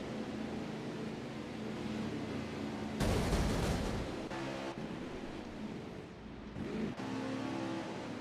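Race car engines roar in NASCAR Heat 4 at Talladega Superspeedway, a steady droning pack with sudden loud bursts as cars pass close by. No one talks.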